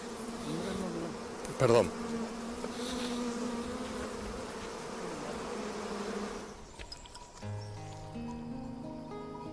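Bees hum as a steady, close drone around rebuilt hives for most of the stretch, with a brief louder burst early on; a short spoken word cuts in near the end as the buzzing gives way to other sounds.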